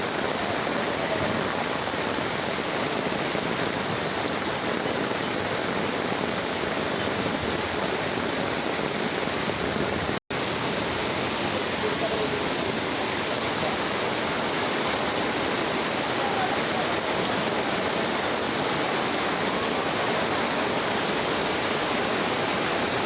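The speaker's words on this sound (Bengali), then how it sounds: "প্রচণ্ড রকম বৃষ্টি হইতেছে।" Heavy rain pours steadily onto a flooded city street in Mirpur where water has risen knee-deep, a dense unbroken roar of downpour with no voices.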